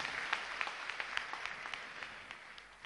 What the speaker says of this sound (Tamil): அனைவருக்கும் உங்கள் கைத்தட்டலை அரங்கம் நிறைந்து வழங்குங்கள்.